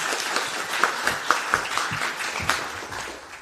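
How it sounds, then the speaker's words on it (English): A festival reading audience at Cymera Festival 2019 claps for an author, a modest, fairly close round of applause with a few distinct sharp claps, tapering slightly toward the end. "So please give him a round of applause."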